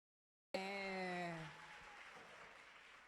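Audience applause at a 2020 Women in Data Science event in Dar es Salaam, starting abruptly with a sustained voice or cheer over the clapping, then settling into steady, moderately loud applause.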